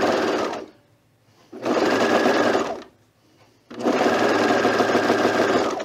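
A sewing machine runs in three long, loud bursts of steady stitching with short pauses between them, joining a seam on a fleece pullover.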